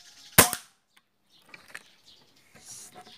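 A Taurus PCP air rifle, converted, fires a single Striker Diabolo pellet: one loud, sharp, close crack right at the start. Faint handling clicks and soft rustles follow in a quiet room.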